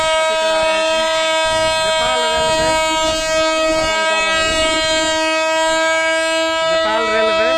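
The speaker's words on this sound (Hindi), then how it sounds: "नेपाल रेलवे देख रहा छी स्टेशन पर जनकपुर के आबि गेल स्टेशन पर नेपाल रेलवे" Nepal Railway train pulling into Janakpur station amid a crowd: a steady, loud drone of the engine and rolling cars with a sustained horn-like tone, and voices talking over it throughout.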